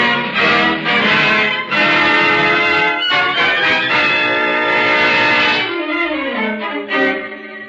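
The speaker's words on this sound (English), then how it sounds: "Sure is a lot of fog over the harbor this morning. Pretty, all them foghorns." Deep foghorns sounding over a foggy harbor as a radio drama effect, loud sustained blasts overlapping one after another, a lower horn sliding down near the end, with no voices.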